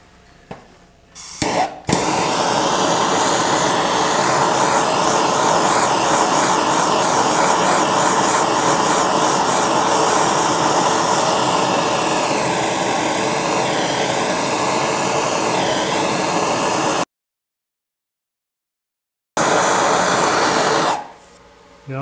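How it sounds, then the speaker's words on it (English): A torch roars steadily as it scorches the surface of a turned wooden bowl, a loud continuous hissing blast that holds for about fifteen seconds, drops out briefly, then returns and fades. "I had to do a little bit of scorching on this bowl"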